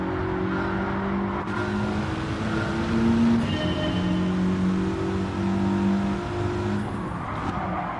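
Cars racing in Gran Turismo 7, a steady engine drone rising and falling through gear changes with a braking dip midway, in-game sound heard at moderate level with no speech.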